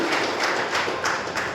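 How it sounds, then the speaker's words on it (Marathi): An audience at the Kolhapur book festival literature event breaks into applause, a dense wash of many hands clapping together at moderate distance for a brief moment. "एकदा जोरदार टाळ्या त्यांच्यासाठी झाल्या पाहिजे"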